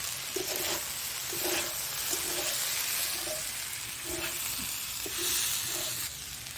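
Boiled banana flower and potato sautéing in a pan for chops, a soft continuous sizzle and hiss with intermittent stirring knocks, fairly quiet.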